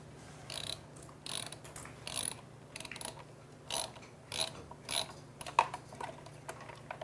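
A ratchet mechanism clicks in quick bursts of rapid ticking as it tightens a handle screw, close and crisp, with short pauses between strokes and no talk.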